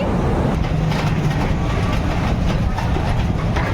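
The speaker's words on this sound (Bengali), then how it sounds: "আমরা এসে গেছি, এবার ট্রেন থেকে নামছি।" A train rolls and rumbles at a station platform, a loud, steady, close mechanical drone with faint rhythmic rattling from the carriages, running unbroken without any speech.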